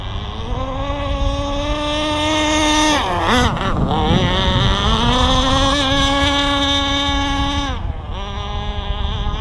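A high-pitched, whining nitro engine on an AquaCraft Top Speed 3 RC speedboat with a K&B 7.5cc motor runs steadily and loudly, pitch dipping briefly twice as the throttle changes, with no voices.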